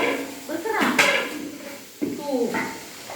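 Plates and dishes clatter and clink in a couple of bursts as someone handles them, close by, with voices talking in the background.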